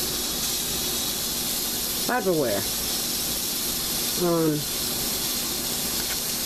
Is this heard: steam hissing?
yes